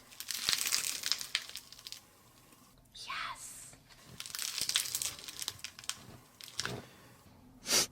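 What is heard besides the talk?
clay cracking fidget shell being cracked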